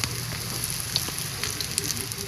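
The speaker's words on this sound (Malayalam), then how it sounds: "എണ്ണ ചൂടായി അതിലേക്ക് നമ്മൾ പൊരിക്കാനായിട്ട് വെച്ചാൽ നല്ലത്" Steady soft sizzle of food frying in hot oil, close by, with faint crackles and no talking.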